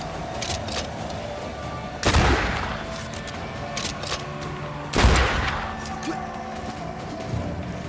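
Bursts of gunfire in the PC video game Banishers: Ghosts of New Eden, with two loud volleys a few seconds apart over a steady, noisy background of combat ambience.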